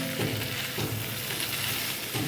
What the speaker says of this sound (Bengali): এবার আমি নাড়াচাড়া করে নিচ্ছি